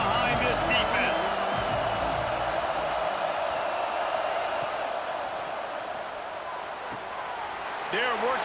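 Stadium crowd noise in a college football video game between Duke and NC State, a broad steady roar of cheering that sits under a commentator's voice throughout.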